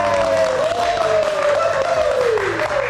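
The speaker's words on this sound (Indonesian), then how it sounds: "Wah, kita kasih tepuk tangan lagi." A studio audience claps for a guest singer on a live night show, giving a dense, steady wash of applause throughout under a sustained tonal sound that slowly slides lower.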